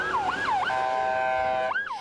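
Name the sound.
ambulance siren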